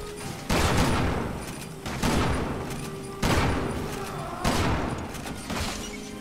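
Heavy gunfire in the video game Resident Evil 6 comes as loud, booming shot bursts, with four or five big blasts spaced about a second and a half apart, each decaying into rumble.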